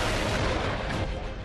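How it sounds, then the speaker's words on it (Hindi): Indian Army rocket launcher and howitzer fire during a School of Artillery exercise in Maharashtra, a dense, loud booming roar of firing that fades slightly at the end. "रॉकेट लॉन्चर सिस्टम एक्शन में आ गया।"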